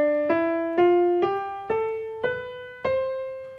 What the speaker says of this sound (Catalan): Si nosaltres tenim l'escala nostra de set notes, que ve de la Grècia Antiga, sona d'aquesta manera.